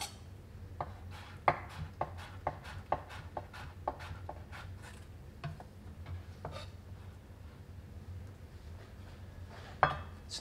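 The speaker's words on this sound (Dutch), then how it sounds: "Het snijden van brunoise." A knife chops a potato into brunoise on a cutting board, with a series of crisp, quiet taps in an uneven rhythm, denser at first and then thinning out, close and alone without speech.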